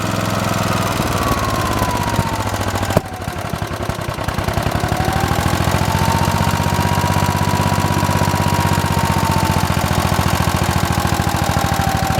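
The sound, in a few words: engine running with choke being adjusted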